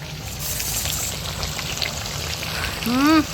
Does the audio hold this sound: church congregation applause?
no